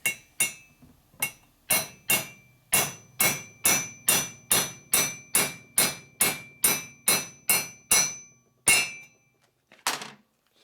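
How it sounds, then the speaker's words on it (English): A hammer taps a part into a snug hole during a Harley-Davidson shovelhead or panhead stroker valve job: about seventeen sharp, ringing metallic strikes at a steady, roughly twice-per-second pace, close and clear, ending with a pause and two final taps. "Alright, where's my hammer?"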